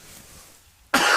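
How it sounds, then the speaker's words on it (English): A man gives one sudden harsh throat-clearing cough, loud and close, after a near-silent pause. "I got to clear my throat again"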